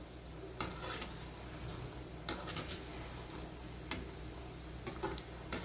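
Sweet and salty snacks fry in hot oil, giving a soft, steady sizzle with occasional light ticks and clinks from stirring, heard close and quiet with no talking.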